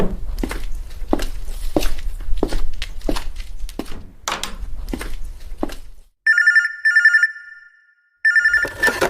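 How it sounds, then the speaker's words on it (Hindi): Electronic telephone ring in a Hindi horror audio drama: two short bursts of a shrill ringtone, then a third after a pause, following footsteps and thumps and cutting the background out cleanly. "लगता है इसके सीनियर का फोन है"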